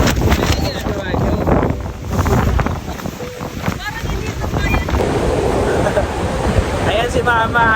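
Strong typhoon wind gusts across Boracay beach, roaring and buffeting the microphone with surf noise beneath, while people talk over it throughout.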